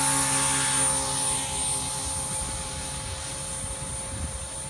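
A small Oxy3 Sport remote-control model helicopter whines steadily nearby in windy conditions, its high rotor and motor tones holding while wind buffets the air underneath.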